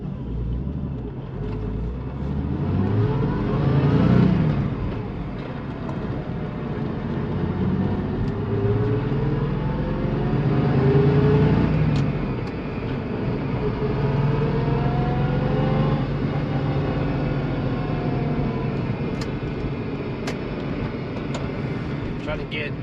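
Porsche Carrera engine held at higher revs, a loud continuous rumbling drone that swells and eases, with someone talking over it throughout.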